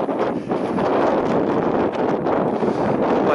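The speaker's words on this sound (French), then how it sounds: "mais vent quasiment de face" Strong headwind buffeting a microphone while bikepacking along a small path in the Corbières, a loud, continuous roar of gusts with no talk.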